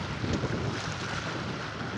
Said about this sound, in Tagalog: Mahangin sa Dalampasigan